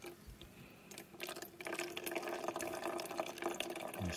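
Filtered water squeezed by hand from a filter pouch into a Smartwater bottle at a bikepacking camp on Anticosti Island, a steady close trickle and splash that builds after a second and keeps running to the end.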